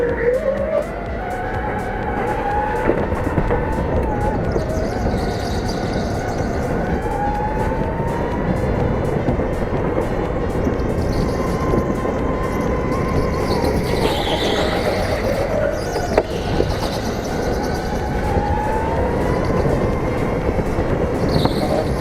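An indoor go-kart engine drones loudly and steadily through a race lap, its pitch rising and falling with throttle changes, with faint tyre squeal in the background.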